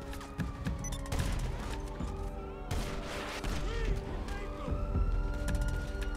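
Gunfire in the online open-world crime game GTA Online: a dense run of shots and bursts, with a siren in the mix and a player voice talking over part of it.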